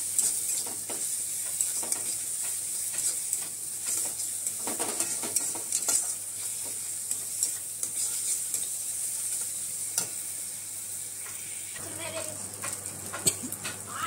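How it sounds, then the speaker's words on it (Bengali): A paste of ginger, garlic and green chili sizzles and fries steadily in a pan, with a constant hiss and occasional stirring clinks and scrapes, fairly quiet and close. "আদা রসুন আর কাঁচা লঙ্কা, পেস্টটা দিয়ে দেবো। ভালো করে ভেজে নেব।"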